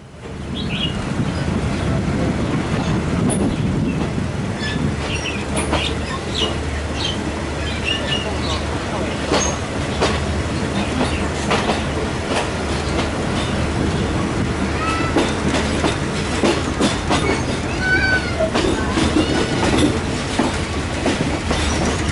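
Hat Yai to Surat Thani train rolling through a junction and switching tracks, with steady wheel rumble, rhythmic clickety-clack over rail joints and occasional squeals, while someone talks over it.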